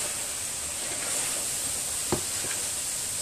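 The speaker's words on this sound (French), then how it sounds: "une fois que la viande a commencé à cuire" Minced meat filling for samosas cooking in a pan, a steady close sizzle and hiss with a couple of brief clinks from stirring partway through.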